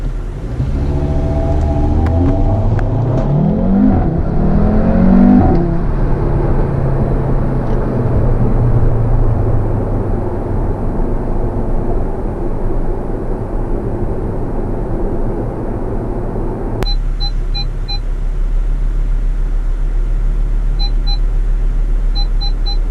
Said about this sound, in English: Get the sport exhaust turned on.